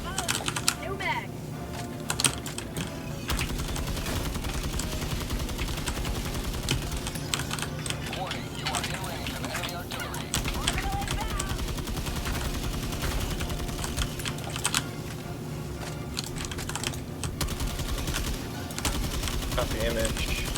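Loud, dense gunfire from the shooter video game Helldivers 2 rattles almost without pause in rapid bursts, with muffled voices mixed in underneath.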